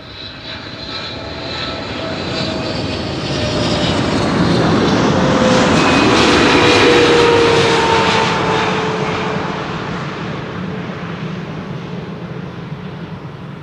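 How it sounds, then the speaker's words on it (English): Emirates SkyCargo jet arriving at Amsterdam Schiphol, a loud broadband engine roar swelling as it passes overhead and fading again, with a whining tone sliding downward through the pass. "Emirates Sky Cargo arriving from Aguadilla."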